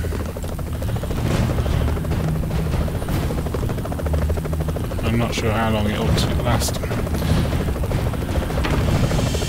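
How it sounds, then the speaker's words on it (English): Helicopter in the side-scrolling action game Broforce, a steady loud rotor chop throughout with explosive bursts and gunfire mixed in, while someone talks over it. "So yeah, you get into the helicopter."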